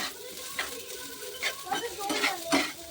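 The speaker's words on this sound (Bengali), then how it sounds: "এখন পেঁয়াজ আর ক্যাপসিকামটা ভেজে নেব।" Onion and capsicum fry in a pan with a close, lively sizzle, broken by repeated scraping strokes of a utensil stirring against the pan, no talking.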